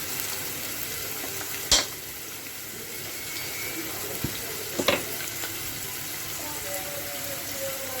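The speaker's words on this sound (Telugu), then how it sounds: "ఇప్పుడు ఒక 2 నిమిషాలు ఆనియన్ని బాగా కొంచెం కలర్ వచ్చేదాకా వేగనిద్దాం" Onions fry in a pan with mustard seeds and green chilli, a low steady sizzle broken by a few sharp clinks and scrapes of a utensil, with no talking.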